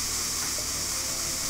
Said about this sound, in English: Let's just spray everywhere.